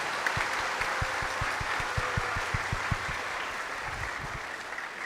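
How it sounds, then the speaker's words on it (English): Audience applause for a special guest, the German ambassador, at a public lecture in Indonesia: soft, fairly distant clapping with scattered sharper claps standing out, steady for about five seconds. "let's give a round of applause to our special guest today"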